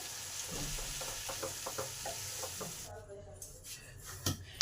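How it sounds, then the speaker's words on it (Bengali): Boiled radish pods fry with spices in a pan, a soft sizzle with a quick run of light scraping stirs and clinks from the utensil, then a quieter stretch ending in a knock against the pan. "এটাকে ভালো করে এই মশলার সাথে কষে নিলাম।"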